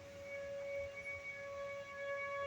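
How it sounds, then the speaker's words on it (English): A steady, faint tornado warning siren drones in the distance during a hailstorm, holding a constant pitch beneath a soft background hum. "the siren's going off."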